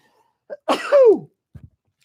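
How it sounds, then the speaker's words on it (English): A single sharp sneeze with a rising nasal lead-in and a loud burst, followed by a brief sniff; no talking. "sorry, I had to sneeze."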